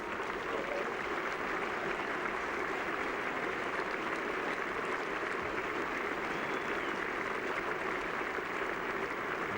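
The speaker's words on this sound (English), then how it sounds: "Applause from Ian Botham as he comes out." Steady, dense crowd applause fills a cricket ground at Headingley during an England v Australia test match, a continuous wash of distant clapping with no break.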